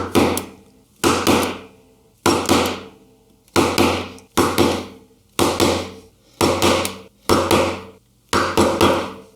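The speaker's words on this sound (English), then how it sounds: "I find I have a little bit more control if I hit the chisel a couple times instead of one time really hard." A mallet striking a chisel to cut a dovetail in wood, nine sharp, loud, evenly spaced blows, each a crisp crack with a short ringing decay before the next.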